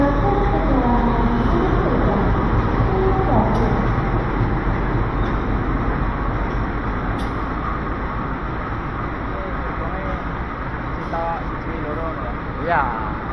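Steady, loud rumble and clatter from aboard the Sritanjung passenger train from Ketapang to Jogja, hauled by CC 203 9813 locomotive of Sidoarjo depot, running continuously with faint voices underneath.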